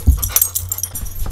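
A pet dog makes a few short, close vocal sounds, quick yips and soft whimpers in a choppy, irregular burst without any talking.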